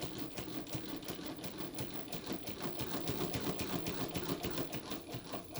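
A Mannan chain-stitch sewing machine runs a three-thread chain stitch on printed water-soluble fabric, a fast, steady mechanical chatter close by with no voices.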